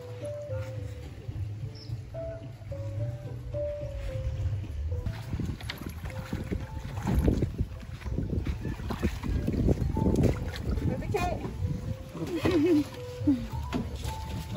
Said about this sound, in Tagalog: pauwi na kami ngayon and sasakay kami ngayon sa bangka